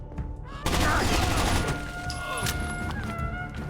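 Bursts of rapid gunfire ring out loud and close, fading into a steady rattle with sharp electronic tones over the shots.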